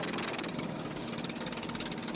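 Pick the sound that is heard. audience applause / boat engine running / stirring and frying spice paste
boat engine running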